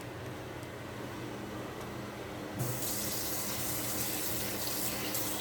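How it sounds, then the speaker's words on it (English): Kitchen tap water runs steadily as a cooking bowl gets rinsed in the sink, a low wash at first that turns into a louder, brighter gush about halfway through and keeps going. "We're going to give a quick rinse to that bowl so it doesn't end up too yucky."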